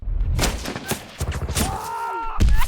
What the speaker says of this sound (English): This is a noise I would typically use for a regular gunshot.